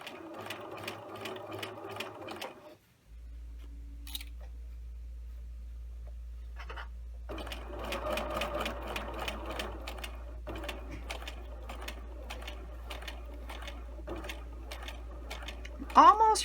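A sewing machine stitching a tailored shirt placket: rapid, even mechanical clatter close by, stopping for a few seconds to leave only a low motor hum, then resuming steady stitching to the end.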